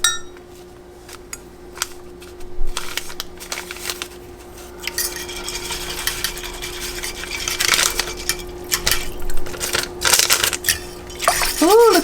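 A spoon stirring seasoning mix into a hot pan with chicken cooking, scraping and clinking against the metal with faint sizzling throughout; a voice talks briefly.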